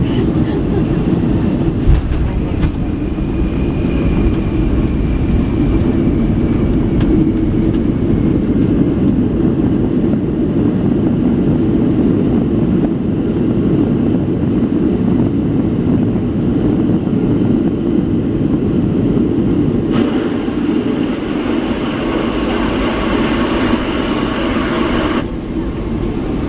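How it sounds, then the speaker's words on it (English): A Delta Boeing 757-200 airliner lands at Glasgow airport, heard from inside the cabin as a loud, steady roar of engine and rolling noise that continues throughout, with the tone shifting near the end. "I'll let you hear the sounds of landing"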